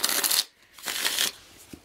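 A tarot card deck being shuffled by hand, two brisk riffling bursts separated by a short pause, close and fairly loud.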